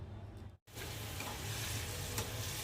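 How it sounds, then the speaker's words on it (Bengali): Malabar spinach leaves frying in a pan, a dense continuous sizzle with a brief cutout near the start. "পুঁই শাক ভাজি করে নিচ্ছি এখন"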